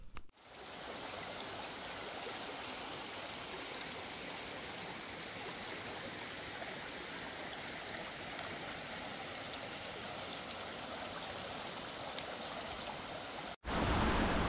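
A mountain creek in the Blue Ridge Mountains rushes steadily over rocks, a constant, fairly close broadband wash of flowing water that runs unbroken before cutting off abruptly near the end.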